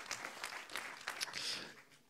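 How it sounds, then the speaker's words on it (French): An audience at a clinicians' competition applauds three contestants, a short burst of clapping with some voices mixed in, moderately distant and fading toward the end. "On peut applaudir très fort"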